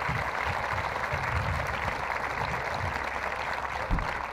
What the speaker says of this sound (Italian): vorrei che faceste un applauso